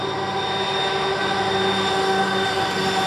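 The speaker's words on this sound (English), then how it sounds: "Pause, because now there's a train coming by." Train rolling past in Skagway, Alaska, a loud steady rumble with sustained tonal hum and whine held evenly throughout, close by and without talk.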